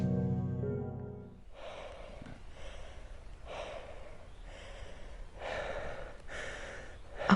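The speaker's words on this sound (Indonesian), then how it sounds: "Suara nafas yang terengah-engah." Heavy panting breath as a sound effect: close, rhythmic gasping breaths repeat roughly once a second, alone against a quiet background after a short tonal lead-in.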